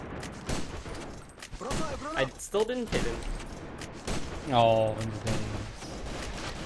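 Gunfire from the online shooter AVA, bullets fired through a wall on the E-Boat map, heard as repeated sharp shots mixed with in-game effects and someone talking over them.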